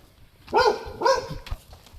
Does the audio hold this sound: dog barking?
yes